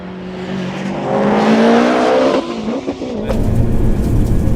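A Subaru Impreza WRX and an R34 Nissan Skyline GT-R rev hard and rise in pitch as they accelerate away, followed by a loud roar as another car passes close by.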